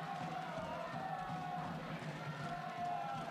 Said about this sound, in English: And the crowd start to get excited